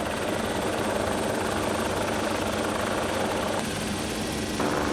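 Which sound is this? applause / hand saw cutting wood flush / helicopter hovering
helicopter hovering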